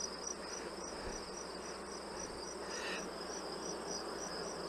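Honey bees buzz steadily at hives during a late-summer honey pull, a dense continuous drone with a high insect whine pulsing over it and no voices.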